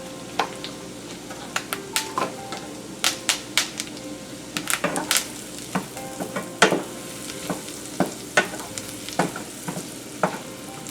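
Whole thyme sprigs and shallots sizzling in rendering fat for a Bordelaise sauce, a low steady frying hiss punctuated by frequent sharp pops and spatters, close and without any voices.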